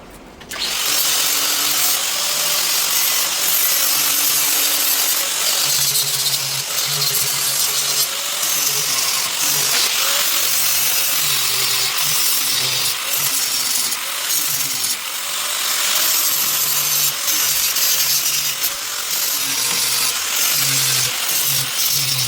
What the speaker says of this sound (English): Not only am I grinding the paint,